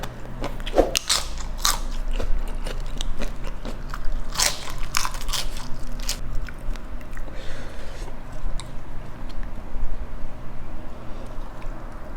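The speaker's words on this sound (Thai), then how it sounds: "กรุบมากครับผม เป็นแมงกะพรุนจืดนะครับผม" Freshwater jellyfish being bitten and chewed, loud crisp crunches in irregular bursts close up, followed by quieter steady chewing.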